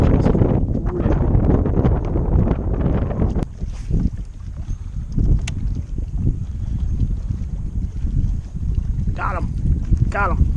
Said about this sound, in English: Boy, this wind is just ripping.